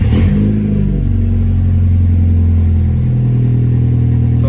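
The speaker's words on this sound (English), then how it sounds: "All right, so now it's time to turn on the car." BMW 228i with the N20 engine starting after an alternator replacement: a brief cranking catch, then a loud, close idle settling into a steady low hum with no talk over it.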